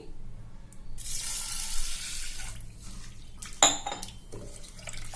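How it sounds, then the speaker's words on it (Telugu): Toor dal is rinsed with water in a pressure cooker vessel: a burst of running water splashes for a second or two, then sloshing and a sharp metallic clink of the pot follow, close and moderately loud. "వాటర్ వేసుకొని నీట్గా కడుక్కుందాం"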